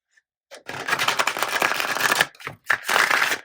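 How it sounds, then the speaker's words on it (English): A full tarot card deck is shuffled close up in several quick bursts, crisp riffling flutters separated by brief pauses. "You guys rarely see me shuffle the whole deck."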